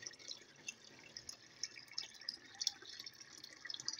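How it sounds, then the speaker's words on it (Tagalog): Quiet drips and light trickles of water as salty dried fish (daing) is set to soak in a bowl of water, scattered irregular plinks over a soft, faint background. "ibabad ko muna yung daing sa tubig para mabawasan yung alat"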